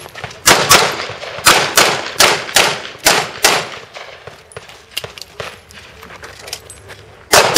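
Gunfire at an outdoor shooting range: a rapid string of sharp, loud shots in quick succession, then a pause and a few more isolated reports, with faint voices between.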